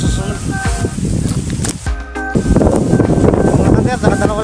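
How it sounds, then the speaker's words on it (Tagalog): Strong wind buffets the microphone with a loud, rumbling roar during an outdoor bird hunt, with voices talking under it and a brief lull midway. "Sobrang lakas ang hangin."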